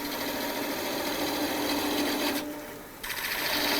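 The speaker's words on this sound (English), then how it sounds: "Now we're gonna use a parting tool." A parting tool cuts into a wooden goblet of crotch wood on a lathe turning slowly, a continuous close, loud scraping rasp that dips briefly near the end before resuming.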